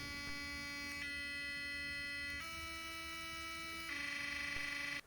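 A steady electric buzzing hum from an AquaSonic Black Series electric toothbrush that changes pitch in distinct steps, shifting tone three times as the vibration mode switches, close and continuous.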